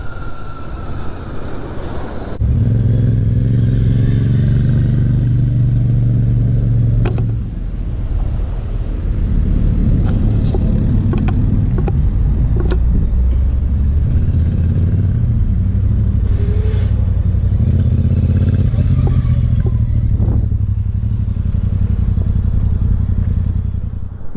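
A Royal Enfield Shotgun 650 with its 648 cc engine rumbles steadily and loudly close by while being ridden, the low drone holding throughout with brief throttle changes and a small dip around mid-ride.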